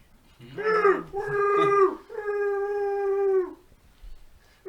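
A voice imitates a Wookiee growl, giving several drawn-out, harmonic roaring howls that rise and sag one after another, loud and close, with no other talk.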